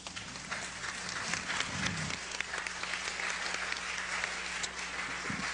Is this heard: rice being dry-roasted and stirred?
no